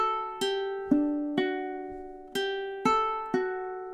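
Ukulele strumming measure 4 of a song, seven bright, evenly paced chord strokes with ringing decay, played alone and close.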